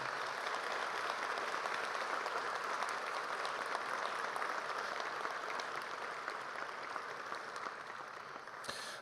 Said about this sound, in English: let's give your parents a big round of applause